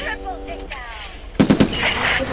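Rapid gunfire bursts in the Free Fire mobile game, a loud burst of shots near the middle followed by continued clattering game sounds, with in-game tones and effects before it.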